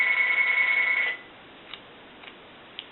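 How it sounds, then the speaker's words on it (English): A telephone bell ringing with a steady electronic trill for about a second before it cuts off, followed by a few faint clicks in near silence. "Alright, hold on, let me get the phone."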